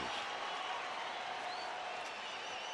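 Sellout crowd of 52,000 at a Yankees versus Atlanta Braves baseball game in Atlanta, making a steady, broad roar of cheering and applause that fills the whole clip with no talk over it.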